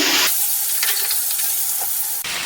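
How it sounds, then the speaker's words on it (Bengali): Salted turmeric-coated raw mango pieces stirred in a pan for pickle, a brief burst of hissing and scraping between sharp cuts, close and moderately loud, no speech. "ভালো করে আমগুলোকে নাড়াচাড়া করে দিচ্ছি"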